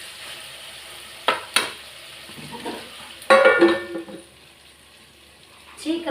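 Bitter gourd frying in oil for kulambu, soft sizzling with a few sharp clanks of a ladle against the pan and a brief burst of stirring, with a voice speaking at moments.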